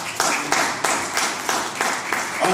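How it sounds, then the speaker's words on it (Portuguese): A church congregation claps in unison, a rhythmic beat of loud, close claps roughly every third of a second, with the sound of the room filling in between. "Aplauda Jesus."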